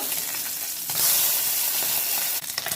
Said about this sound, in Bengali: তেলের ভিতরে আমি এই মাছটাকে ভেজে নেব